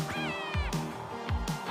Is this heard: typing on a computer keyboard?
no